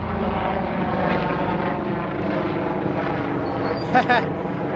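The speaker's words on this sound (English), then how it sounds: "The helicopter." A helicopter passes above a Toronto street, its steady rotor and engine drone hanging overhead at moderate distance, with a brief sharper sound near the end.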